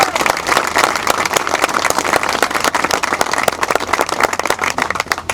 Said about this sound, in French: Vous pouvez l'applaudir aussi Audrey.